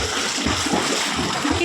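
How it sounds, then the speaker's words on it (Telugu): A child swims in a swimming pool, splashing continuously and fairly loudly up close in short rhythmic bursts of churning water. "కీరుగాడు ఈత కొడుతున్నాడు."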